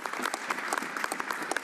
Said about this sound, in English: it's just the Conservatives who are applauding that